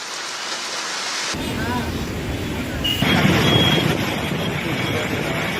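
Heavy monsoon rain pours steadily over flooded streets in Mumbai, a dense continuous hiss that grows louder partway through, with faint traffic and distant rumble beneath.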